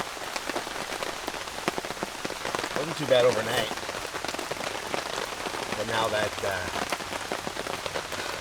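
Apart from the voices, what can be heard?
rain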